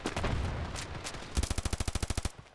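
Gunfire in the mobile shooter Standoff 2: a few loud single shots, then a rapid burst of about a dozen evenly spaced automatic rounds, close and sharp with no talk.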